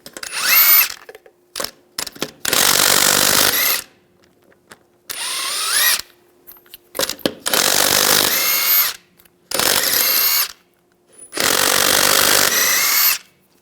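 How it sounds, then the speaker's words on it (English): Power tool with a 22mm socket spinning lug nuts off the rear wheel of a Ram 1500 pickup, heard as five loud, close bursts of whirring and rattling, each one to two seconds long, separated by quiet pauses. "take the lug nuts off."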